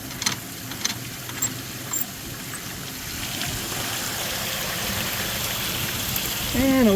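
Water rushes steadily through a pipe, a constant hissing flow that grows slightly louder, with a few sharp clicks early on and a brief tonal whine at the end.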